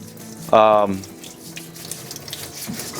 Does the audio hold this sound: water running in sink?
yes